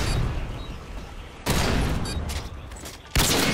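Bursts of video game gunfire, a loud volley right at the start and two sharper blasts near the middle and end, dense and close with crackling reverb between shots.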